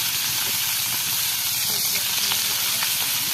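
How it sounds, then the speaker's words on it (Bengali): Fresh fish frying in a pan makes a continuous dense hiss and sizzle, loud and close, with a few faint clinks over the steady crackle. "মাছ ভাজার আইটেমটা দেখেন, আমাদের কঠিন মাছ ভাজতে আছি"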